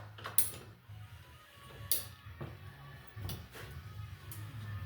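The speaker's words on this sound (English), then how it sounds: "Now let's just put this clamp on there." A clamp is fitted and tightened by hand, giving a few close, faint mechanical clicks and ratcheting knocks spread over a few seconds, no talking.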